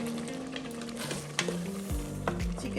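A spoon stirs chicken chili with lemon juice in an Instant Pot, scraping and sizzling close up with a few sharp clinks against the pot.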